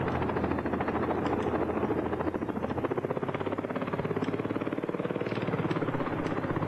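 A Bell 407 helicopter flies in BeamNG.drive, its rotor giving a loud, steady rapid chop over a continuous turbine drone, close and unbroken throughout.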